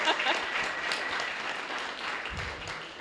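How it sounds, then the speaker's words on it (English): An audience gives a round of applause for the Astronomy Club at UTSA, a steady, fairly distant wash of many hands clapping with no break. "So let's give them a round of applause."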